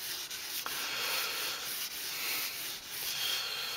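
Kitchen knife edge drawn across 2000 grit sandpaper, a soft, close rubbing hiss in repeated even strokes, fairly quiet and without talk.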